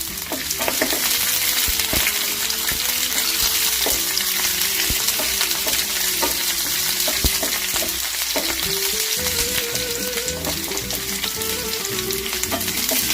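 Green chillies and garlic sauté in hot oil for a Kerala tempering. A loud, continuous close-up sizzle and crackle carries steady stirring, with no voices over it.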